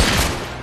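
A loud gunshot blast in the sci-fi horror video game Dead Space 3, a single sharp, booming report that quickly fades, very brief.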